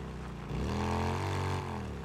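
Motorcycle engine in the video game Days Gone, a steady droning rumble with a rising, revving pitch sweep in the middle, continuous and fairly loud with no talk over it.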